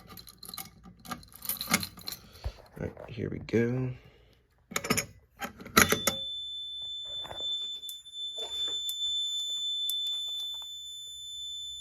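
Relays click in short bursts inside an Arduino-built home fire alarm panel, alongside a steady high electronic tone, after a stretch of nearby talking.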